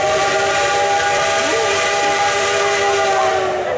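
A steam locomotive whistle, locomotive No. 715, blows loud and steady for the whole stretch at an outdoor light-and-sound show at the River Kwai bridge, a sustained breathy tone with a hissing edge.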